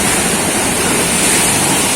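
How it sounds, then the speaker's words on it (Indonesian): Ocean waves crash against a cliff at a rugged fishing spot, a loud, unbroken roar of surf and spray filling the whole moment with no voices. "Kita hati-hati harus baca pergerakan ombak teman"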